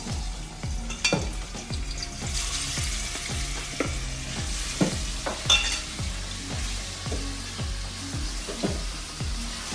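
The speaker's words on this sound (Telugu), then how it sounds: "సో ఇందులో కూడా ఆయిల్ వేసేస్తున్నాను. సో ఇప్పుడు చికెన్ వేసేస్తున్నాను." Chicken fries in oil, sizzling steadily in a pan while a spoon stirs in a regular scraping rhythm, repeated thumps every half second or so.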